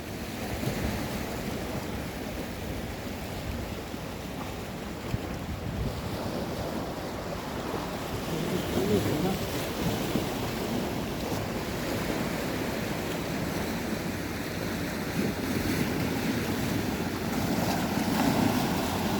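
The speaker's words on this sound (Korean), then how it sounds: "지금 파도가 제법 치고 있는데요." Ocean waves wash and break steadily along the rocky Taejongdae coast in Busan, stirred up by a departing excursion boat's wake, with constant surf roar and gusty wind buffeting throughout.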